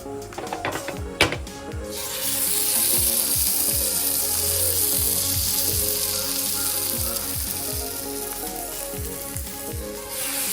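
A few sharp clatters, then mussels hiss and sizzle in hot oil, a loud, steady bubbling crackle that continues to the end.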